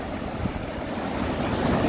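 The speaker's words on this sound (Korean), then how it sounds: "또 파도가 치니까" Sea waves crashing on a rocky shore on a day of very high surf, a continuous broad roar of churning water with wind noise on the microphone and no pauses.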